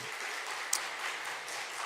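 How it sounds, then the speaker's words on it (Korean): A church congregation applauds together, with steady, dense clapping that stays even throughout and one brief sharper accent partway through. "박수 한번 쳐주세요, 여러분."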